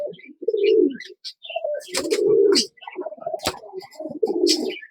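A racing pigeon coos in repeated low, throaty bursts close by, with short pauses between calls and a few faint chirps from other birds in the background.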